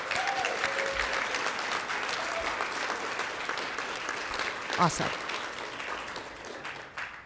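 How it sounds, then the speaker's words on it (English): Loud, steady applause from a conference audience fills the room for several seconds, a dense patter of many hands with a few louder claps near the end, while a speaker briefly talks over it. "I would love a big and loud and excited round of applause for you and the work that you do"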